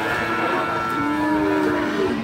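Limousin cattle lowing at the PON cattle market in Pacitan, East Java, with long drawn-out moos rising over a busy, steady market din of crowd and activity.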